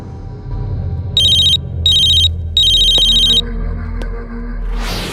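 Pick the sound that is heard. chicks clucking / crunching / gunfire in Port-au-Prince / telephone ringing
telephone ringing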